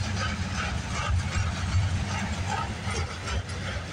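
A CN freight train rolls past nearby at Tansley, a steady low rumble of engine and wagons with rattling mechanical noise throughout.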